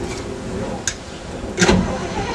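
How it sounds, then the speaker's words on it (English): A GMC 366 engine in a 1978 International Loadstar bus cranks and catches after sitting for days, a short starter whir followed by a sudden loud burst as it fires, over steady background noise. "there's a GMC 366 for you. Starts up instantly."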